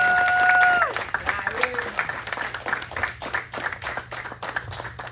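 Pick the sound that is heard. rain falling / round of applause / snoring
round of applause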